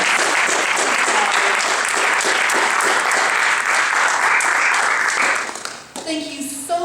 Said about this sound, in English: let's give a round of applause to all of us.